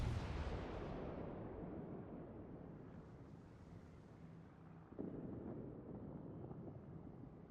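Naval gunfire from warships in World of Warships: a steady rumbling roar of distant shelling with wind-like noise, and a sharper boom around the five-second mark.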